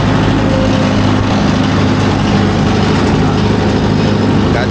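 A Mahindra Yuvo Tech Plus 585 4WD tractor with a 42-blade rotavator runs loud and close, its engine making a continuous heavy, rumbling drone with a low throb that holds steady throughout.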